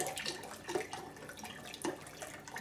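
Liquid being poured into an Instant Pot for chicken tacos and rice, a soft splashing trickle with a couple of brief gurgles, quiet and close.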